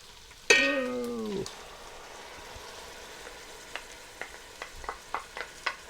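Chopped tomato hits a hot pan for pasta moussaka with a sudden loud hiss and squeal, then fades to faint, scattered crackles and pops from the frying.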